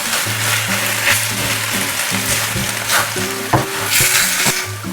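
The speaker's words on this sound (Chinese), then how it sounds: "现在我们只需要快速的翻炒几下，将所有食材混合均匀就完成了" Chicken and cabbage with scallion greens stir-frying in a wok, a steady sizzle with rhythmic scraping and tossing of a spatula, close and continuous, with kitchen clatter.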